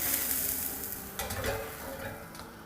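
Chicken Bihari kabab frying in a pan as the pieces are turned over, with a steady oil sizzle throughout and a louder burst of spitting and stirring noise around the flip midway.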